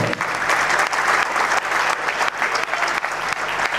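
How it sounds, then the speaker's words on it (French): A crowd at a political rally claps loudly for Félix Antoine Tshisekedi, thick sustained applause with a low steady hum underneath and slight rhythmic swells. "je vous demande d'applaudir fort"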